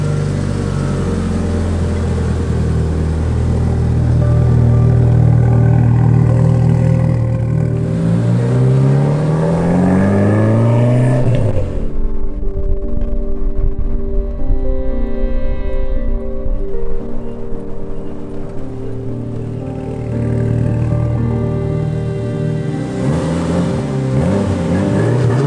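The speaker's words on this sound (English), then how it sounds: "I really like how stock Evos sound." A stock Mitsubishi Evo being driven, its engine rising through revs, then easing off to a lower cruising drone before building again, loud and continuous from inside the cabin.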